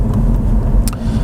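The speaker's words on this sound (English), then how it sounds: "the whole drivetrain, both the engine and the gearbox, from time to time make very weird noises" A Cadillac ATS-V's engine and gearbox under way give a steady, loud low rumble with a brief sharper noise partway through.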